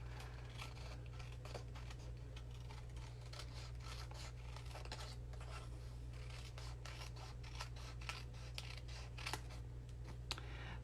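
Scissors snipping through patterned paper for a fussy cut, a run of quiet close clicks and rustles spread across the clip over a steady low hum, with no talking.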